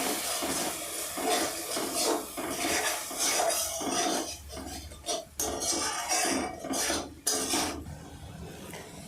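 A spatula scrapes and knocks against a pan as spice paste is stirred and fried with a little water for a mushroom curry, irregular clattering strokes over a soft background sizzle.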